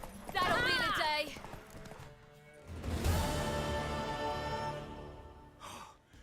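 Horse hooves clip-clopping at a gallop in The Witcher 3, a rhythmic run that rises near the middle of the clip, with a rider's voice and a short whinny-like breath over it.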